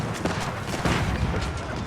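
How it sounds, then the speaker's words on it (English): Chinese hand cannons firing in a medieval strategy video game, a rapid scatter of overlapping booming shots over constant battle noise. "my hand cannons just killed the mangonels"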